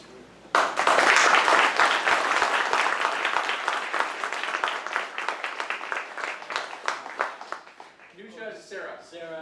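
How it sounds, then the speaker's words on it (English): Audience applause after an astronomy talk, a sudden burst of dense clapping that gradually thins into scattered individual claps over about eight seconds, then a speaker's voice begins. "So a big round of applause for"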